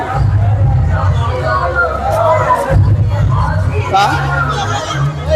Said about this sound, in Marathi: तर पहा किती गर्दी या ठिकाणी।